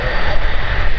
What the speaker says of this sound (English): this aircraft was literally, it was just painted white, completely and utterly white